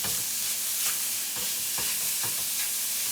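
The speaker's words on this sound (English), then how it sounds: "we don't have to cook this pork all the way through, we just need to get it nice and brown" Pork browns in a hot pan with a steady, loud sizzle throughout, broken by several scraping stirs at roughly half-second intervals; nobody speaks.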